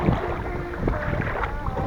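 Wind buffets the microphone on open water during a paddleboard trip on a warm October lake, a steady low roar with faint water movement beneath it.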